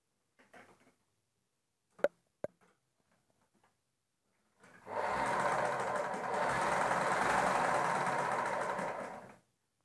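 A sewing machine stitches the hem of a four-panel petticoat, running steadily and fairly loud for about five seconds after a few faint clicks and handling taps.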